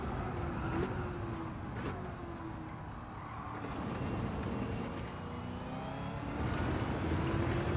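A car engine in the Gran Turismo racing game hums and revs at moderate volume, rising and falling with gear changes and passing whooshes, without talk.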